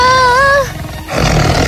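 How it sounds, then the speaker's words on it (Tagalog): A tiger in a fairy-tale forest scene gives a loud, drawn-out roar with a wavering, tonal start that breaks into a rough growl, alone with no talk. "nakita niya ang tigre na nakaharang kay Pastorella at unti-unting papalapit na ito"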